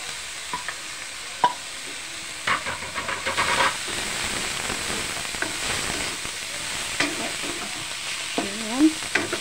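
Chicken goes into a pot for sotanghon soup with carrots already inside, hitting the hot oil with a burst of hissing sizzle, then frying steadily under scraping stirs and occasional clinks, with faint voices near the end.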